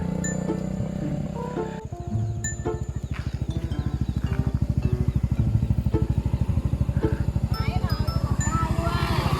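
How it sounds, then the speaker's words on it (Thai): A Honda Forza 300 scooter being ridden, its engine giving a steady low pulsing drone that rises after a brief dip, close and continuous with a person talking over it. "ขับฟอร์ซ่าครั้งแรก ที่สปัน"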